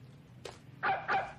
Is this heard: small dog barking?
yes